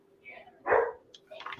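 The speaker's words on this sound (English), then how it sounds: "Is that your dog?" A dog at home gives a single short bark in the middle, with faint yips around it, heard quietly in the background of a room.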